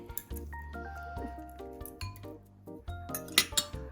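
Pork pieces go into a bowl to soak in vinegar, with close clinks and clatters of dishes and utensils knocking in a loose, uneven rhythm, then a brief louder rattle near the end.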